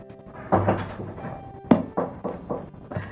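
Knocking on a door, heard as a couple of separate clusters of loud, close, hollow thumps spread unevenly across the moment, with no talk.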